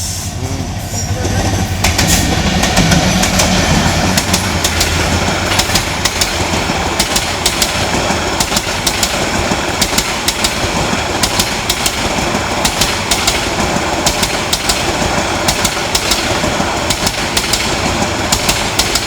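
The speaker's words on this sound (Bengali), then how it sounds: "ঢাকা অভিমুখী সুবর্ণ এক্সপ্রেস যখন লাকসাম রেলওয়ে স্টেশন দিয়ে দ্রুত গতিতে ঢাকার উদ্দেশ্যে" The Dhaka-bound Subarna Express roars through Laksam railway station at speed, a loud, steady rush of engine and wheels with rapid clattering rail beats sustained for the whole stretch, with no voices.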